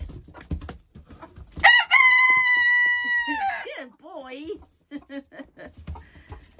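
A person imitates a rooster with a loud, drawn-out cock-a-doodle-doo crow outdoors on a snowy day near backyard chickens, with casual talk before and after.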